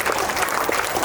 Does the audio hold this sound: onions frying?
no